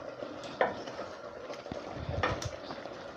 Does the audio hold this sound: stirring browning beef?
yes